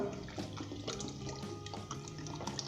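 Water poured into a pot of nihari: a quiet, continuous splashing trickle with small bubbling and dripping accents over a short stretch.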